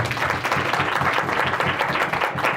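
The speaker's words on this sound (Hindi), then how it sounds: "जोर से ताली बजाओ।" A church congregation claps loudly at a service, a dense, continuous wash of many hands with a steady pulse running through it.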